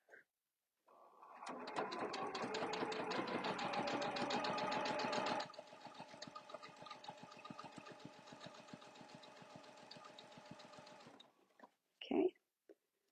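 A sewing machine stitches binding in a steady, rapid mechanical rhythm for about ten seconds, louder at first and then quieter as it slows, followed by a brief faint noise near the end.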